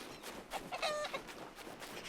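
Chickens cluck in the survival crafting game RuneScape Dragonwilds, a few short clucks and a brief drawn-out squawk, fairly faint over a soft outdoor ambient bed.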